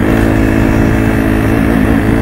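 A KTM 250 SX-F motocross bike idles steadily on snow, its single-cylinder engine putting out a loud, close, continuous burbling drone with slight wavering in pitch and no talking.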